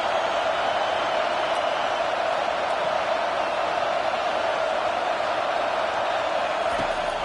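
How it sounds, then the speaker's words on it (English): A stadium crowd at a football game roars in a steady, dense wall of noise that holds at an even high level throughout, with no single voice standing out. "listen to this crowd noise. This stadium is vibrating"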